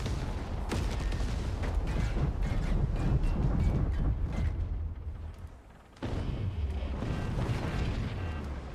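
Explosions in the strategy game Forts: a dense, continuous roar of booms and blasts at high level, dipping briefly before another heavy burst resumes the rumbling barrage, with no voices.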